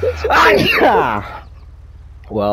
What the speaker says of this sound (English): I'm a violent sneezer.